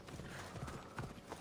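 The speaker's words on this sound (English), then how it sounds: "Okay, we're gonna call the horse." Hoofbeats of a galloping horse in the video game Assassin's Creed Odyssey, a quick clip-clop rhythm with a brief whinny, close and fairly loud over a faint game ambience, with no talk.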